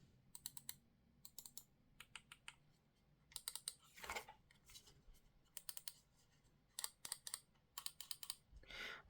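An Asus ROG Keris Wireless AimPoint gaming mouse gives quick clusters of crisp, sharp button clicks in bursts of two to four, with short pauses between. The clicks are close but quiet, with no talk over them.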